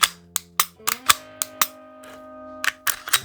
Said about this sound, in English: Lock that slide back, visually and if needed, physically inspect.